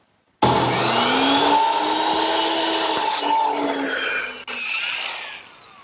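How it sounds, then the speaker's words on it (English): A hand saw cuts through wood in a miter box at about 33 degrees, a loud, continuous rasping stroke that runs steadily for several seconds, briefly catches, then tapers off at the end. "now I'm going to bring it over to my miter box and cut it back at about 33 degrees to follow the curve"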